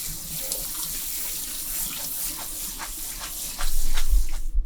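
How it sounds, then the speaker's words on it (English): Cold water runs from a kitchen tap over cooked macaroni in a sink, a steady hissing splash that swells louder near the end, with no talking. "A little bit of cold water to it to take the excess salt out of it, also not to be sticky."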